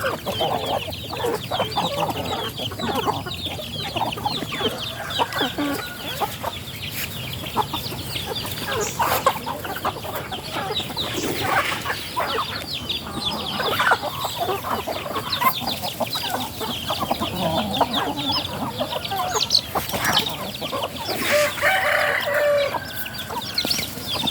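Farm chickens after a flood, with hens clucking continuously and roosters crowing at intervals, a busy, dense flock sound throughout with no talking.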